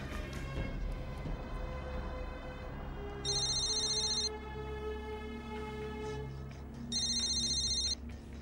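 A phone rings twice in short electronic bursts over a background of low hum and music, clear and close.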